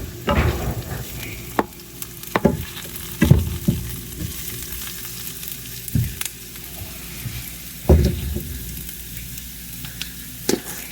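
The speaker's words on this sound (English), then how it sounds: "So now I'm going to put my ground sausage in." Ground sausage frying in a pan with a steady sizzle, broken by several sharp scraping stirs from a utensil at close range.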